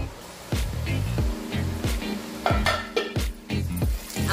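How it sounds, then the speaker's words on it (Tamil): Chopped onions frying in a pan for homemade chicken biryani, a steady close sizzle broken by several sharp clinks and scrapes of a stirring spoon against the metal pan. "நம்மளுக்கு இன்னும் வெங்காயம் ஃப்ரை ஆகணும்"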